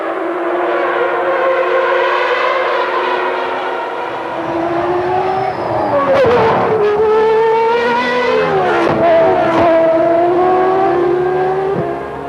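Formula One race cars at the 1994 Grand Prix, loud high-pitched engine whines rising and falling in pitch as cars pass close by, several engines overlapping with sharp gear-change dips.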